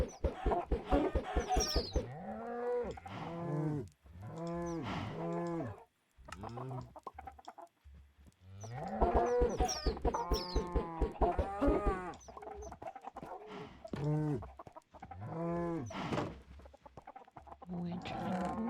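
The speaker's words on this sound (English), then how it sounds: "feeding the chickens with the eggs." Chickens cluck in Minecraft while being fed eggs, a near, loud run of repeated clucks and squawks in bursts with brief gaps between them and no talk.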